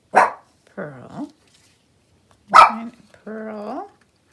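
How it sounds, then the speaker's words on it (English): Pearl, a dog indoors, gives two pairs of sharp, close barks, each burst followed by a shorter yelping tail, with silence between. "Is that temptation to bark just too much for you?"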